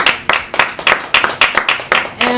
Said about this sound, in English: Round of applause to Annie.